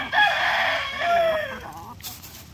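Asil and shamo chickens call while feeding on bananas, a loud rooster crow stretching over a second followed by fainter clucks and a short burst of noise.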